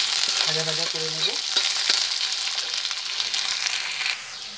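Slit green chillies and grated ginger frying in a pan give a loud, steady broadband sizzle close by, and a few tonal clinks are heard near the start. The sizzle eases slightly toward the end.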